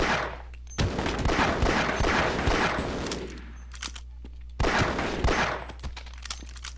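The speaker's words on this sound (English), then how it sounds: "Just snipe the hell out of you with this pistol." Gunfire from a pistol in a video game comes in two dense, rapid bursts of close shots, each rolling off into a decaying tail, with a brief quieter gap between them.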